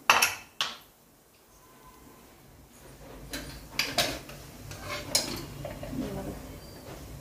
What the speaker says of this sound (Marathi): आता कुकर बी थंड झाला आहे, हे काढून घेते.